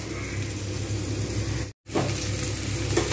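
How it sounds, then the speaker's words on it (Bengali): Potatoes and cauliflower frying in oil in a pan produce a loud, continuous sizzle, close and steady, with one very brief dropout midway. "কিন্তু মাছটা কমিয়ে আলু ফুলকপি সুন্দর কিন্তু ভালো করে ভাজবো লালচে করে।"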